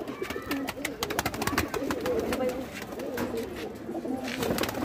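Pigeons coo repeatedly on a rooftop in Jammu, their soft, throaty calls overlapping in a steady, close chorus against a faint background hiss.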